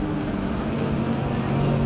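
A Volkswagen Beetle engine in the racing video game Gran Turismo 7 drones steadily with a low, buzzing hum, close and continuous, with no talking.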